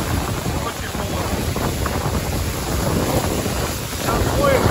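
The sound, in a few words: cold wind blowing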